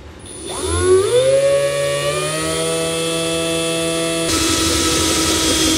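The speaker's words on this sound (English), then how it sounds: "to start drilling, you just want to be extra careful and take your time." A power drill bores a hole in a truck bed during an underbed gooseneck trailer hitch installation, spinning up with a rising whine, then holding a loud steady tonal grind, with a brighter metallic edge near the end.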